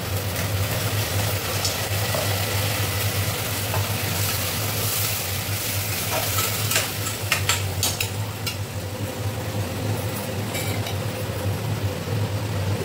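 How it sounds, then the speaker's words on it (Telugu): Tomato frying and being stirred in a pan after cloves have been toasted, a steady loud sizzle running throughout with scraping stirs and spoon clinks mid-clip, no talking. "అది వేగిన తర్వాత ఒక 2 స్పూన్లు టమాటా"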